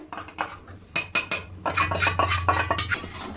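A spoon or spatula clinks and scrapes against a bowl or pan while powdered sugar is stirred into besan laddu mixture, with a busy run of irregular metallic taps and rubbing, close and fairly loud, and no talking.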